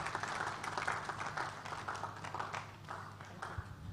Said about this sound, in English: Please, a round of applause for Lola Esson.